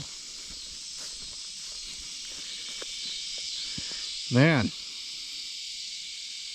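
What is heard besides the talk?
cicadas chirping loudly at night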